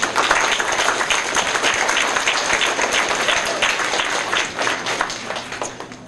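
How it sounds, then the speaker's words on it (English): Parents and teachers in a school audience at a DARE program event receive a round of applause. The clapping is steady and fairly close, a continuous wash with little change throughout. "Can I get a round of applause for the parents and the teachers, please?"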